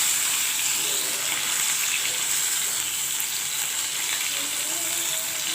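Bata fish fries in hot oil with black cumin in a pan, a loud, continuous close sizzle with soft bubbling and an occasional stirring scrape, no talk.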